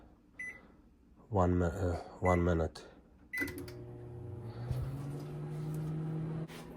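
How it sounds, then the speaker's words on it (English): A Samsung microwave oven, just repaired after having no power, runs with a steady low hum, with a few short beeps at the start and a person speaking over the beeps. "The microwave is running."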